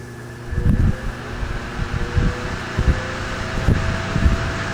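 A vintage electric fan runs on its high setting. It was last lubricated with a squirt of WD-40 back in 1998. A steady whirring drone carries a low hum, with soft buffeting thumps recurring throughout and no talking.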